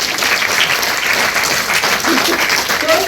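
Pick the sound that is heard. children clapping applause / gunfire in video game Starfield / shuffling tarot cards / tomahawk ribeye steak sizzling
children clapping applause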